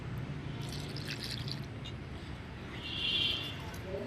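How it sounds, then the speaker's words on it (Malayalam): Water is poured from a container onto potted rose and aloe vera plants, giving a soft, steady splashing and trickle that swells briefly near the end over low background noise. "ഇത് ഞാനിപ്പോൾ റോസയ്ക്കും കറ്റാർവാഴയ്ക്ക് ഇച്ചിരി ഒഴിച്ചേക്കാം."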